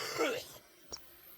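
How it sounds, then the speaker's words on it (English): A single person coughs once outdoors near trees at sunset, a short, faint burst in otherwise quiet surroundings, following a brief earlier noise. "A cough. I just heard someone cough."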